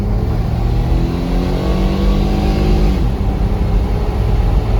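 A 2006 Chrysler Pacifica accelerates at full throttle, its engine droning loudly and climbing steadily in pitch, with a brief gear change partway through, heard from inside the cabin.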